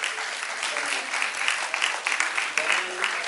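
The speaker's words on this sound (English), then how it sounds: "And Prema, give a big round of applause." Steady applause from an audience at a robotics competition's closing session, many hands clapping continuously at moderate loudness with murmured voices mixed in.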